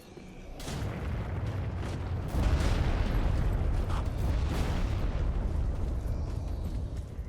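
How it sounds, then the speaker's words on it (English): Explosive arrows bursting in Dark Souls III's Snowfield area, a sustained, dense rumbling blast with a sharp onset and a louder surge midway, continuing without pause. "Don't get messed up by the explosion of those arrows."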